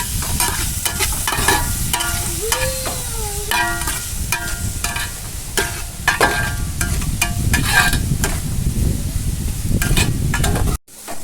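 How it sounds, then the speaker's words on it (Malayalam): A spoon scrapes and knocks repeatedly against a pan while egg curry base of onion, tomato and green chilli sizzles steadily underneath, ending in an abrupt cut. "നന്നായിട്ട് ഇളക്കി കൊടുക്കാം കേട്ടോ."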